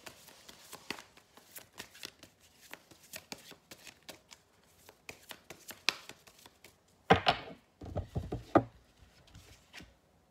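A 52-card deck is shuffled and cut close by. Quiet, scattered card taps and flicks lead into two louder riffle shuffles near the end.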